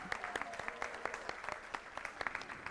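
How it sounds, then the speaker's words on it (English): Light applause from a modest audience honoring award recipients at a board meeting, sparse distinct claps heard faintly at a distance. "let's show our appreciation for all of tonight's honorees with one final round of applause"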